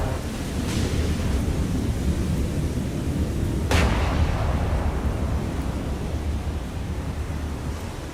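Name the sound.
battleship Alabama naval gunfire, video game War on the Sea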